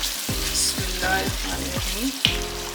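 Mutton liver with ground spices and crushed black pepper is mixed in a frying pan, with a steady loud sizzle and rhythmic scraping strokes of the spoon, and a voice briefly heard over the frying.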